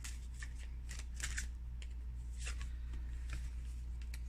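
Oracle cards being shuffled by hand, with close bursts of papery riffling and rustling over a low constant hum.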